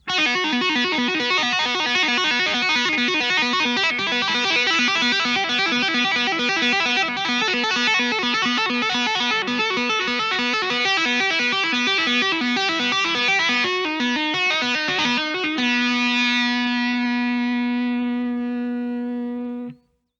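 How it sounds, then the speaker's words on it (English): A distorted electric guitar plays a fast, fluid run of hammer-ons and pull-offs using open strings, notes blurring together before settling on a sustained ringing note that cuts off. "he starts using hammer-ons and pull-offs, and that sounds like this"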